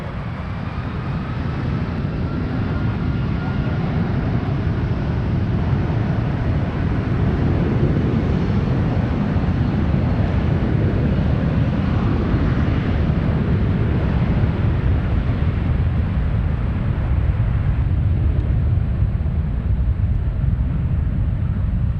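A Boeing 757 airliner departing San Francisco airport for Denver gives a loud, steady, low jet roar that holds unbroken for over twenty seconds, with no talking over it.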